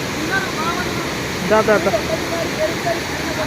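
Strong water flow at Baabijhari waterfall in Kerameri makes a steady, dense roar throughout, with people talking and calling out over the rushing water.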